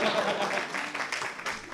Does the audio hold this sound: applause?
yes